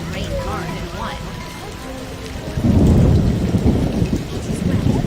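Steady rain hisses in a stormy scene from the PC game The Witcher, with a voice speaking over it early on before a loud, deep roll of thunder bursts in near the middle and rumbles on.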